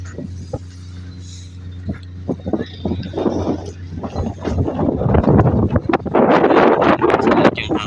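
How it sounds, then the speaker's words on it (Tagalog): Strong wind gusts at a precast concrete factory in Jeddah, buffeting the microphone in rough, swelling bursts over a steady low hum, with intermittent knocks and a voice speaking in the background. "Yung hangin"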